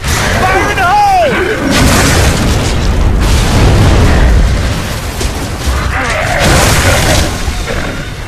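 Heavy explosion in the game Gears of War 3 aboard a ship: a loud, sustained rumbling boom with crackling debris and machinery noise, with voices shouting at the start.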